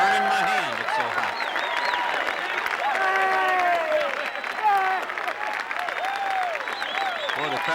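A large golf gallery at the final round of the 1984 Masters Tournament bursts into sustained applause and cheering after a great putt, loud and continuous, with a commentator's voice running over the noise.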